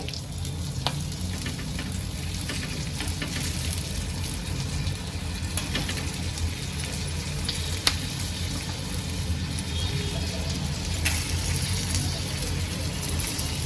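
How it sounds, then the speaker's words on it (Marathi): Stuffed green chillies shallow-fry in oil over a medium-low gas flame with a constant, fairly loud hissing sizzle, broken by scattered crackles and one brief clatter. "आता दोन ते तीन मिनटं चांगलं एका साईडनी मी यांना चांगलं तेलामध्ये तळून घेईल आणि मग पलटवेल"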